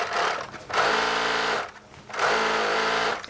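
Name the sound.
serger overlocking a fabric seam edge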